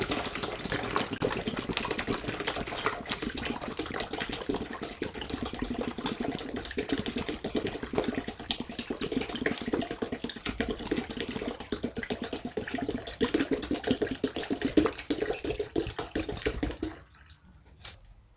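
Water is poured steadily from a 2.5-litre bottle into a homemade liquid soap mixture, a continuous gurgling rush lasting about seventeen seconds before stopping abruptly.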